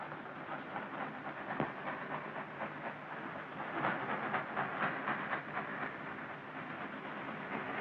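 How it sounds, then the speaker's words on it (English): A train approaches in a 1951 Civil War film, a steady rumble and hiss with rhythmic clattering that swells in loudness partway through, with no talk. "What are we waiting for? The second train."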